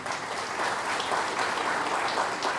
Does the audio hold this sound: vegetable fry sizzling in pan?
no